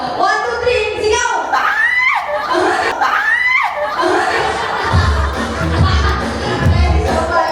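A crowd of people shouts and cheers together on a counted cue, loud and close, with laughter mixed in and voices talking around it.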